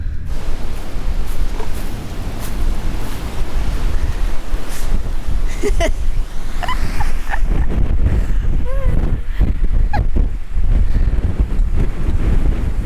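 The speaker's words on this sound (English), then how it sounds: "This is really windy." Strong wind buffets the microphone with a constant low roar throughout, with faint chirping calls poking through in the second half.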